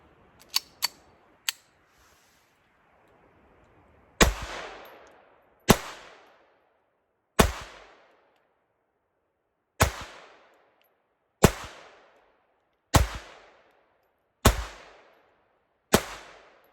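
A Walther PP pistol fires its first eight rounds outdoors: loud, sharp single reports spaced roughly one to two seconds apart, each trailing a brief echo, preceded by a few quieter clicks and handling knocks.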